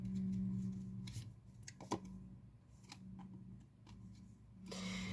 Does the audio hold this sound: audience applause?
no